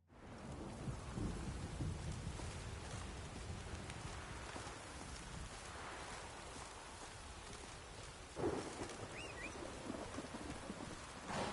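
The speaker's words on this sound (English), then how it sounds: "storm, damn it." A thunderstorm in The Witcher 3 video game: steady heavy rain with rolling thunder rumbling throughout and a sharper crack near the end, with no talking.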